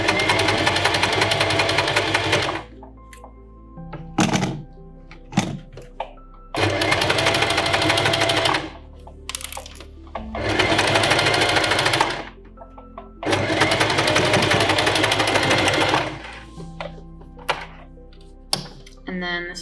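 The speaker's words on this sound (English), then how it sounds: "Put the foot down. There's no need to back tack here." Domestic sewing machine stitching a seam on fabric, running in three long steady bursts of fast, even whirring with short pauses between, close up and loud, with occasional clicks and handling thumps in the gaps.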